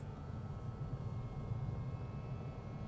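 A steady low mechanical whir drones on evenly throughout as the sunroof motor of a 2024 Toyota Yaris Cross hybrid closes, heard from inside the car, with no voices.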